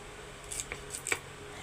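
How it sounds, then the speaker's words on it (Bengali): Fresh vegetable stalks are cut into pieces in a kitchen, giving a few quiet, crisp snips close by in quick succession. "এইভাবে পিসগুলো আমি কেটে নিচ্ছি"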